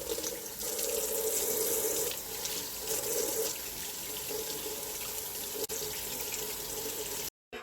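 Tap water pours steadily into a cooking pot for a batch of red chicken pozole, a continuous close rushing that runs for about seven seconds before cutting off abruptly.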